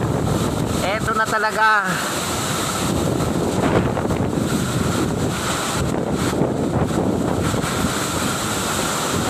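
Strong wind with drizzle sweeps through downtown Calauag, Quezon, roaring steadily and close into the microphone throughout, with a brief spoken phrase near the start.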